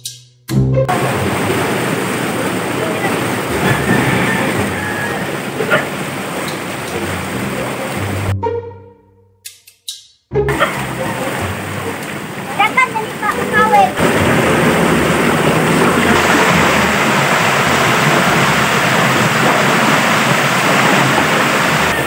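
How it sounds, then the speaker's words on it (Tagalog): Water rushing hard out through an opened drainage gate of a fishpond toward a river, a loud steady roaring torrent nearby that cuts out briefly in the middle, with a voice talking over it. "Kinukuha na yung mga serdura lahat para mas lakas din ang paglabas sa tubig namin"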